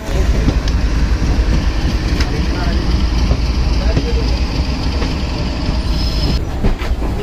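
A passenger train pulls out of a station on the Katra to Kalka route, giving a steady, loud rumble of wheels and carriages with faint rail clatter that continues throughout, under a murmur of background voices.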